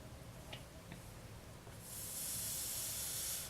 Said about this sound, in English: And then one more spray should be enough.